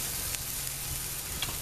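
Pork skirt steak sears on a grill with a quiet, steady sizzle, a soft continuous hiss punctuated by a few faint crackles, with no talking.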